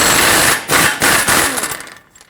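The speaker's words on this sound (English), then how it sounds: "I'm going to remove the axle nut next with a 32mm socket" An impact wrench with a 32mm socket hammers off a tight front axle nut on a 2009-2019 Ford Flex, giving loud close bursts of rattling impacts that break off briefly, then sputter and fade out.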